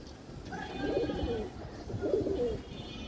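A silver male pigeon coos among other pigeons at home, giving two soft, throaty rolling coos close by, with faint background noise between them.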